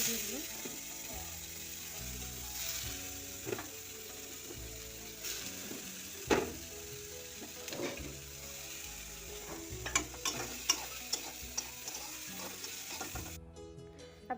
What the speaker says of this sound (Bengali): এখন সয়াবিনগুলো ফ্রাই করে নেব। সয়াবিনগুলো দিয়ে দিলাম।